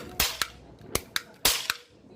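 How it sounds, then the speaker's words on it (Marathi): Toy cap gun caps burst during Diwali, six sharp snapping cracks in uneven pairs over about two seconds, close by and quite loud against a quiet background with no talking. "ते बघा टिकल्या फोडून राहिला आहे तो"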